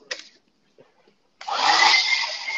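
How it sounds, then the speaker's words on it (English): A hair dryer switches on after a couple of faint knocks and blows with a steady loud whoosh for the final second, close up, with no talk. "Is your hair dryer ready?"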